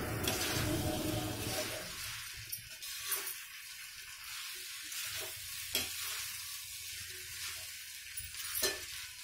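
Soaked flattened rice (chuda) being stirred into a pan for Banarasi chuda matar: a soft, steady sizzle broken by occasional scrapes and light clinks of the spoon against the pan.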